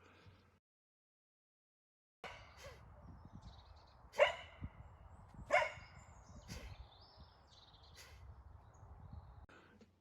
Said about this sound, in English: Did the dog's bark scare you?